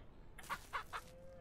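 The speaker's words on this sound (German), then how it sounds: "Unsere Hühner vermehren sich gut." Chickens on a farm in Ranch Simulator let out three quick, fairly soft clucks, followed by a brief thin whistle-like tone over quiet ambience.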